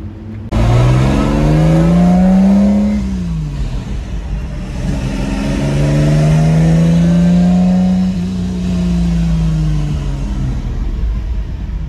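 A Mercedes-AMG GT Black Series sports car drives by on a Paris street, its engine loud and close with two rising then falling revving sweeps, a deep rumble underneath throughout.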